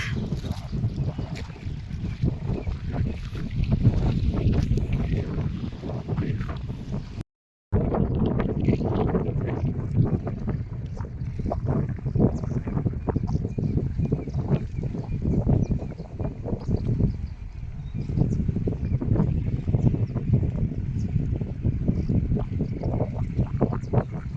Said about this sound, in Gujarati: પવન એ બહુ બધો છે એટલે આમ તારે મોજા જો કેવા સરસ રહે